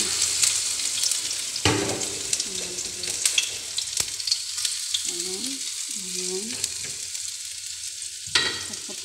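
White onion sautés in a pan for a chili sauce, giving a constant close sizzle with soft stirring scrapes and a few sharper clicks.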